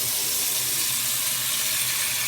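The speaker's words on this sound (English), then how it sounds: "And I'm gonna add some hot water." Continuous rushing splash of very hot water pouring steadily into a glass, close and loud, with no voices.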